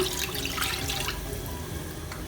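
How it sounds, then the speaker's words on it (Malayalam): A cup of water poured into a pan while cooking Kerala-style roasted-ground chicken curry, a steady close-up splashing and trickling stream with no talking. "ഇനി അതിലേക്ക് ചേർക്കുന്നത് ഒരു കപ്പ് വെള്ളമാണ്"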